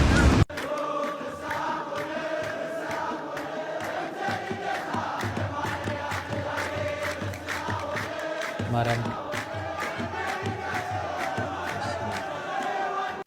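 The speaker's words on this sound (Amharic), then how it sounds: "ይህ የምትመለከቱት ጭብጨባ ለደስታ ለድጋፍ ወይም ደግሞ ለጭፈራ ያደረጉት አይደለም" A large crowd claps together at a funeral, loud rhythmic clapping blended with shouting and mournful voices that carry on steadily throughout.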